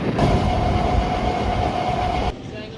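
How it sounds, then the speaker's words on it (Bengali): A train on a single-line railway route from Namkhana runs past nearby with a loud, steady rumble and rattle and a sustained metallic whine, easing off slightly just before the end. "এই ট্রেনটা আসলো নামখানা থেকে, আর আমাদের ট্রেনটা ছেড়ে দিল।"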